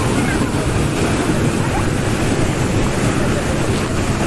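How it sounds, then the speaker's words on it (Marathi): Ambewadi waterfall roaring as a dense, loud, continuous wash of rushing water, steady throughout with some wind buffeting on the microphone. "खूप अमेझिंग धबधबा आहे."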